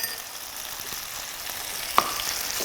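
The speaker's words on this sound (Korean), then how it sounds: "간장을 이렇게 넣고 기름에 살짝 볶으면 향이 되게 좋아가지고" Soy sauce and rice wine stir-frying in hot oil for a zha cai shredded pork noodle soup, a steady close sizzle with a single brief clink partway through.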